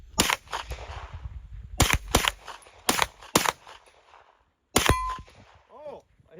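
A Smith & Wesson M&P FPC 9mm carbine fires several sharp, loud shots outdoors at a fire extinguisher target, spaced irregularly with ringing metallic clangs from hits and a brief quiet gap before a final shot.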